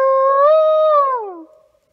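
A person imitates an animal howl in the woods of Mohawk Mountain, Litchfield, Connecticut: a single loud, close, tonal wail held steady, then sliding downward and trailing off into silence.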